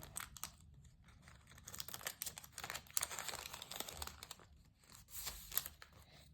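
Crinkly tearing and rustling of a thin paper packet being opened, a close, continuous crackle with a few sharper rips, no voices.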